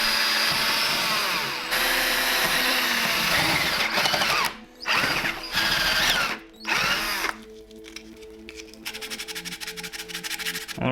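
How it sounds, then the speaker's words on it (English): A power drill boring holes into a wooden edge hold for a DIY portable hangboard, loud whining runs broken by short pauses, ending with a lighter, rattling grind close to the listener; no talking. "I'm gonna drill 2 additional holes here into this bigger edge hold here"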